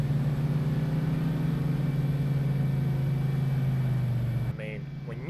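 Truck engine in Farming Simulator strains at its 50 mph top speed, a steady loud droning whine that holds constant and then cuts off abruptly near the end.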